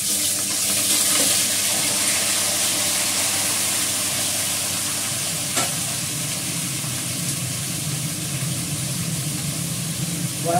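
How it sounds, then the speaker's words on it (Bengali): Cauliflower and potato fry in a pan tempered with cumin and asafoetida, making a steady, close hiss with occasional stirring clinks and scrapes that runs throughout, with faint talk now and then. "আমি জিরে আর হিং ফোড়ন দিলাম, এবার কপি আলুটা দিয়ে দেবো।"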